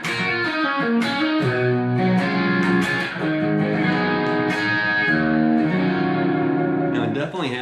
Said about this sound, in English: Definitely has those super glassy, Strat tones, which is what I was looking for.